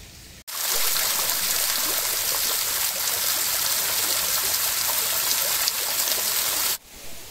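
Yinhe Cave waterfall in the hills near Maokong, Taiwan, running low during the dry season, gives a steady broadband rush of falling water, close and even, with no voices.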